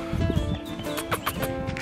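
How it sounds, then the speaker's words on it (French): Small donkeys at a holiday park mini farm in France let out short, close braying calls in quick bursts, some strained and wheezy, over a brief stretch of farmyard noise. "Ils sont là les petits ânes."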